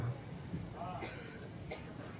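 A passenger train pulls out of Renigunta station, its quiet low rumble running steadily beneath the carriage, with faint scattered squeaks and a soft murmur in the background.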